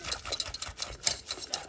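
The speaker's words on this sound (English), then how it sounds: "little mini whisk and whisk it around" A small whisk stirring hot cocoa in a pot, giving fast, quiet rhythmic ticking clicks against the pot, close and faint.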